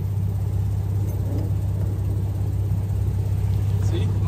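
A loud Ford Mustang engine rumbles deeply and continuously at close range, a steady low drone holding without pause.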